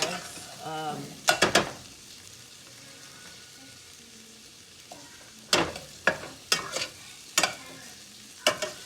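Breakfast potatoes browning in butter in a pan, with a steady frying sizzle broken by sharp utensil scrapes and clacks, a few early and a rapid run later, close by with no speech.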